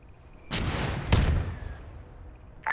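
Warhammer 40k themed video game combat: two heavy booming shots about half a second apart with long rumbling tails, then a short sharp crack at the end, with no talk.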